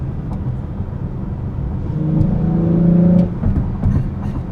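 A 2020 Toyota Camry engine with an Injen cold air intake idles, then revs up smoothly at light throttle with a rising tonal whine before dropping back, close and fairly loud.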